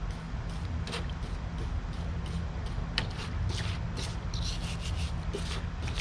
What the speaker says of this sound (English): I'm going to grab my wire brush and I'm just going to come in here and I'm going to just scrub this down